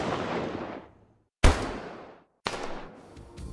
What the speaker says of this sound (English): And finally, we have the SMG sound.